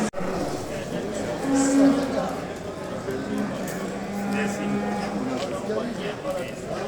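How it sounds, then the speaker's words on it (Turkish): Cattle at a livestock market in Bayburt moo, with two or three low calls standing out over a busy crowd murmur and people talking nearby. "Evet sevgili izleyenlerim inek."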